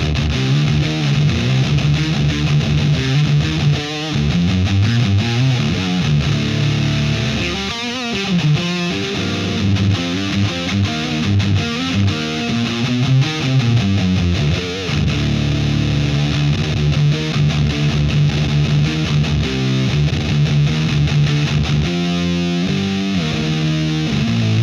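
An electric guitar plays through a Peavey VTM 120 tube amp with a pedal set to distortion, a dense, loud, sustained riff running continuously for the whole stretch with no speech over it.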